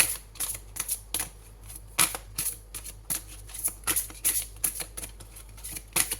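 Oracle cards being shuffled and drawn during a tarot-style reading, a run of quick crisp flicks and soft snaps close up, arriving in irregular bursts over a low steady hum, with no talking.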